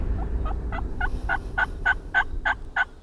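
A wild turkey gobbles in a rapid series of about ten sharp, rattling notes, fairly close and clear over a low background rumble.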